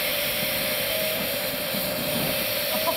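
An air blower roars steadily into a motorized fire tornado rig, a continuous broadband rush with a faint steady hum beneath it, no voices.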